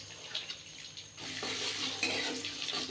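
Whole spices, bay leaves, cinnamon, cloves and cardamom, sizzle in hot mustard oil in a pan, a quiet start breaking into a steady, close crackling hiss that fills the rest of the clip.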